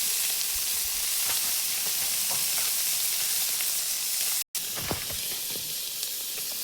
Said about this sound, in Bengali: খুব একটা বেশি ভাজবো না, অল্প করেই ভাজবো